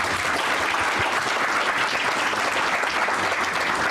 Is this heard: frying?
no